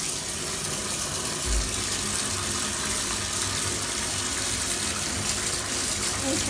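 Tap water pouring steadily into a bath, a constant loud gush that runs throughout, with a brief low thump partway through.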